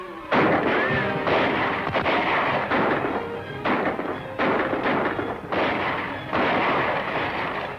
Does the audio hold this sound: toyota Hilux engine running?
no